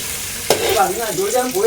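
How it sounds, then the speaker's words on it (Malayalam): A sudden sizzle as raisins drop into hot ghee, followed by steady bubbling and crackling frying, close and fairly loud. "കിസ്മിസ് വറുത്തപ്പോൾ എല്ലാം നല്ല ഉരുണ്ടിരിക്കുന്നുണ്ട്"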